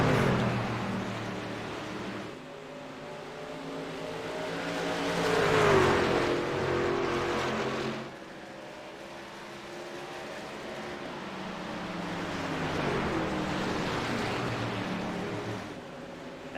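Gander Mountain NASCAR trucks racing at Phoenix in a PC racing game, with a steady loud engine drone that swells and fades as the trucks run close together in the draft.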